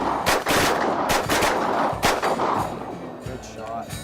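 Shotgun blasts ring out at geese on a goose hunt, several loud sharp reports in quick irregular succession over an open field.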